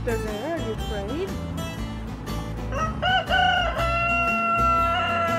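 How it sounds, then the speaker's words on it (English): A rooster crows nearby, a drawn-out rising and falling call, with other birds clucking and people talking in the background. "There's a rooster there,"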